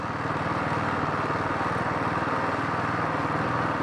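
A motorcycle riding along a quiet mountain road near Bharari in Uttarakhand, its engine giving a steady, close, loud putter with an even pulsing rhythm throughout, and no voices.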